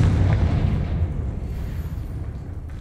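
A Confringo fire spell explodes in Hogwarts Legacy, a loud low boom right at the start that rumbles and slowly fades over a few seconds with no voices.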